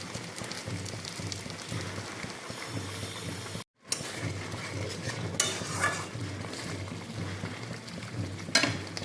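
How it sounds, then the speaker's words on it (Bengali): A masala paste of poppy seed and cashew, with turmeric, cumin and coriander powder and a splash of water, is sautéed in a pan, giving a steady scraping stir and soft sizzle that briefly cuts out, then resumes with occasional utensil clinks. "একটু জল দিয়ে আবার একটু হালকা কষাবো।"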